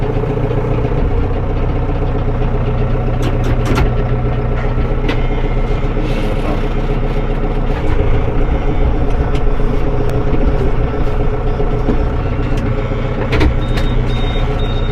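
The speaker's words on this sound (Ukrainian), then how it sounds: "коли рухаємося назад, у всіх янмарів присутній індикатор звуку" Loud idling engine rumble of a Yanmar AF 650 tractor with repeated short beeps of its reverse warning alarm sounding over it at intervals, close by.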